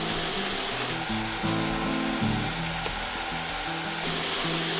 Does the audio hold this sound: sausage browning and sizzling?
yes